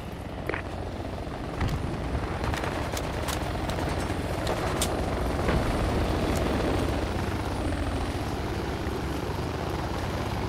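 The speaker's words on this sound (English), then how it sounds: "A helicopter is coming." Constant rotor and turbine roar from a helicopter in the Project Reality combat game, a dense, steady wash at moderate level with scattered sharp clicks and distant bangs over it and no talk.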